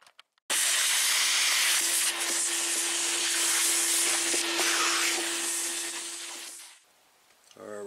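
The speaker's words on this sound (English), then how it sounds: "Now we'll take the vacuum and vacuum everything up." A vacuum cleaner switches on abruptly and runs with a loud, steady hissing roar and an underlying motor hum while cleaning a rusted car T-top roof repair area, then winds down and stops near the end.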